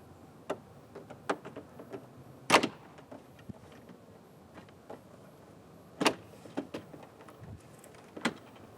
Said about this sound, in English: Now use your pry tool to separate the upper trim panel from the inside of your hatch.